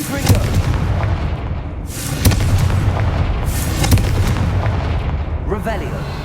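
Confringo fire spell blasting in Hogwarts Legacy on PS5, a loud, dense booming rumble with repeated sharp bursts and crackling impacts over about six seconds, mixed with game voices.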